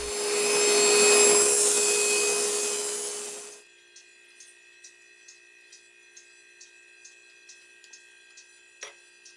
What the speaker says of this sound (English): What I'm doing here is I'm beveling the contact surfaces of the device